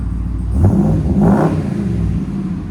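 Deep, throaty revs from a 2020 RAM 2500 6.4L HEMI V8 with its resonator deleted and a 6-inch exhaust tip, two quick blips of the throttle rising over a loud, close idle rumble.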